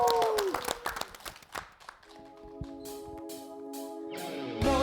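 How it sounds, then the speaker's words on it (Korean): Studio audience on a Korean broadcast variety show claps, starting with loud, sharp clapping that fades out before a sustained musical tone comes in as the performance begins. "여러분들 박수로 함께 모셔보도록 할까요?"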